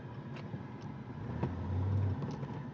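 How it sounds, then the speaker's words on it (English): A 1971 Pontiac GTO's engine hums low and fairly quietly from inside the car, swelling briefly as it pulls through a gear while cornering, then easing off. "We're going to run through a couple gears here as we take the corner"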